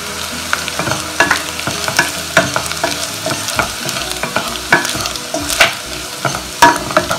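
Kashmiri chili powder fries with onions in a pan for a milkfish curry, a steady sizzle broken by repeated scraping and clattering stirs, loud and close, with no voices.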